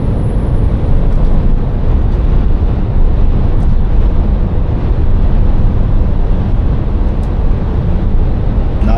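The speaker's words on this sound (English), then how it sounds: "Now you can see how windy it is." Strong wind roars steadily past a 40-ton truck near spinning wind turbines, a loud, unbroken rumble of buffeting against the microphone that lasts the whole stretch with no voices.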